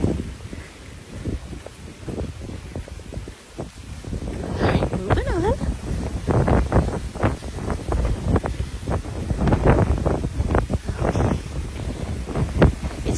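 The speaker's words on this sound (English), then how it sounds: "February, and it is really windy." Strong February wind blows across a Caribbean beach in Mexico, a rough, gusty roar buffeting the microphone beneath a person talking throughout.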